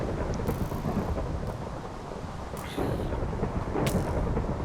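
Steady heavy rain pours in a modded Minecraft world, with low thunder rumbling underneath and a few brighter crackles breaking through, dense and continuous throughout, no voices.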